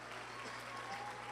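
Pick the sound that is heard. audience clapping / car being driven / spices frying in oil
audience clapping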